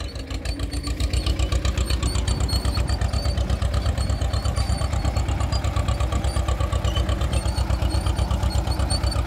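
An Escort 335 tractor engine running, a loud close diesel putter with rapid, evenly spaced firing pulses that settle into a steady rhythm after a brief uneven start.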